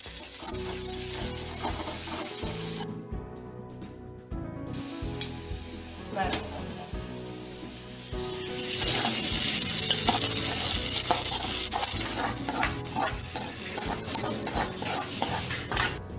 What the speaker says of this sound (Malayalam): ചുവന്നുള്ളിയും വേപ്പിലയും ചേർത്തിട്ട് വെളിച്ചെണ്ണയിൽ മുരിച്ചെടുക്കാം